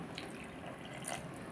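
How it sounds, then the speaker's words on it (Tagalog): A little water is poured into moringa chip batter mixed with cornstarch, a brief, faint, close trickle and splash lasting under two seconds. "At maglagay ako ng konting tubig."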